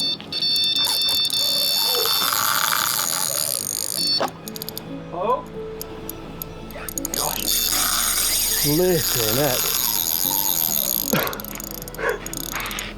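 An alarm bell rings loudly and continuously in a Thai setting, a harsh sustained clang with breaks, while people talk and exclaim over it.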